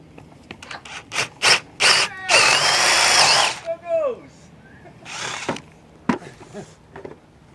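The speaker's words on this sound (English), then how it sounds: "So we're just going to drill through." A power drill boring through a timber brace on a pergola build, starting in short bursts then running steadily for a second or so before winding down, close and loud, with someone talking around it.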